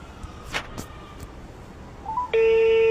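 A mobile phone call is placed: a few soft taps and short tones, then a loud steady ringback tone begins and holds, close and clear.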